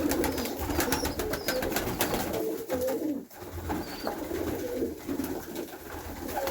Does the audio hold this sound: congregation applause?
no